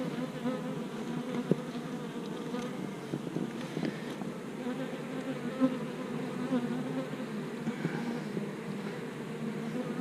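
Honeybees buzz around an open beehive in a steady, soft, continuous hum with occasional louder passes of individual bees near the microphone, no talking.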